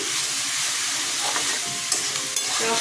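Onions sprinkled with a little salt fry in a pan for an egg and brinjal dish. A loud, dense sizzle holds steady throughout, with a few faint stirring scrapes and no talk.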